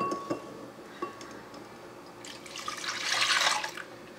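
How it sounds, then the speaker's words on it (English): Milk pours into a bowl of flour for Swedish pancake batter, starting with a few light clinks and drips and swelling into a steady, louder liquid stream toward the end. "we're gonna add the 2 cups milk"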